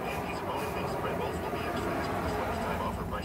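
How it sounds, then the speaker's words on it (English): A car passes on a roadside near the beach in Bonita Springs, Florida, a steady broadband traffic rumble heard alongside a parked truck, with someone talking over it. "Please excuse the car noise passing by,"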